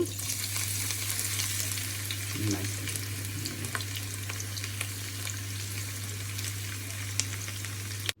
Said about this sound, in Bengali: পেঁয়াজগুলো আমি ভেজে নিচ্ছি